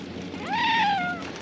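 A cat gives a single drawn-out meow that rises and then falls, close and clear over a quiet background.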